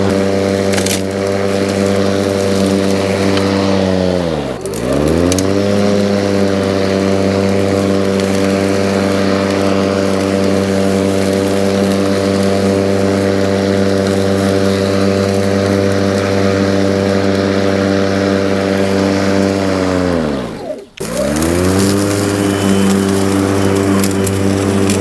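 A Powersmart 80V cordless electric lawn mower runs at night with a steady, close motor whine, dipping briefly in pitch twice before recovering.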